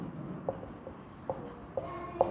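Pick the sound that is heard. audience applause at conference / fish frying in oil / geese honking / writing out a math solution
writing out a math solution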